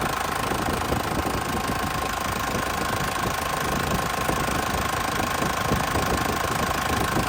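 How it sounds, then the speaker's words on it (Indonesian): A 1996 Isuzu Panther Grand Royale engine idles steadily once warmed up, a close, even diesel-like knock running unbroken from start to finish with no voices over it. "Mesinnya stabil banget ya, tidak goyang."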